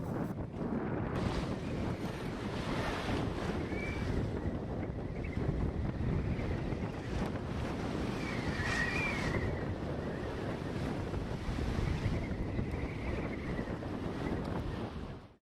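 A sailboat running on an easy downwind sail toward Yorkeys Knob near Cairns, with constant rushing wind noise on the microphone and waves washing steadily along the hull, unbroken throughout.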